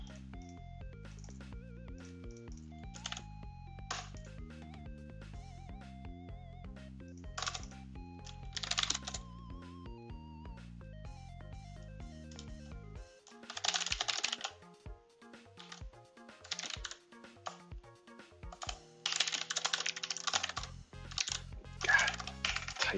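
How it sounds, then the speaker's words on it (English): Computer keyboard typing during a game-development session, bursts of rapid clicking keystrokes with short pauses, close and clear, alone without talk. "typing speed is much better, but it's still weird"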